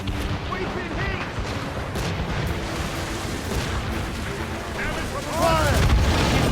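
Ship cannon fire in the naval battle game Assassin's Creed Rogue, a steady rumble of booming shots rising louder near the end, mixed with game music and shouting voices.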